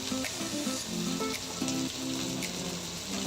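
Pork hits a hot pan for Filipino pork binagoongan, a steady loud sizzle and crackle of frying filling the whole stretch, with faint scraping and stirring beneath.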